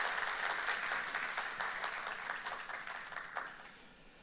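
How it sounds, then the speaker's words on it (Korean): A church congregation claps in encouragement after a combined choir's performance, a warm, fairly soft round of applause that holds steady and then gradually tapers off. "다시 한번 크게 격려의 박수 한번 할까요?"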